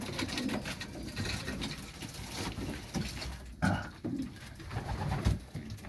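Pigeons coo repeatedly in low, soft throaty bursts, close by, over a rustling background.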